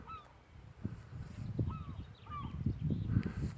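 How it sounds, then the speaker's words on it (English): Geese honking at a wildlife pond with goslings nearby, several short calls rising over a steady outdoor rumble and wind, moderately distant, with other bird calls mixed in. "oh, geese over the far side with goslings behind them"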